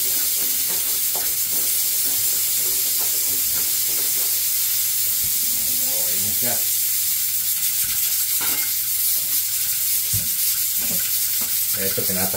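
A pot of tinola boils vigorously, giving off a steady loud hiss and bubbling with occasional small pops and clatter, close by and continuous.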